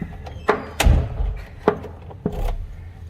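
An old door in a courtyard being moved and turned around, giving several dull wooden thunks and knocks at irregular intervals, close by with faint background noise between the hits.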